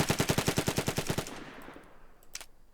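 Full-auto burst from a RAK-37 SMG in a video game: about a dozen rapid, evenly spaced shots fired close and loud, then a decaying echo tail and a faint click near the end.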